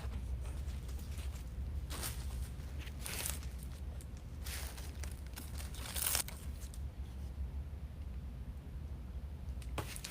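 Deco mesh being cut for a Christmas wreath, several crinkly, tearing snips of the stiff mesh in short bursts over a low steady background hum, close by.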